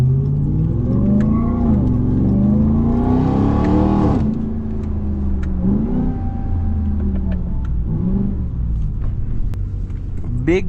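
A RAM TRX Hellcat pickup truck's supercharged engine revs hard and accelerates, close and loud, its pitch climbing and dropping through gear changes with a rising whine; someone speaks in the cabin over it.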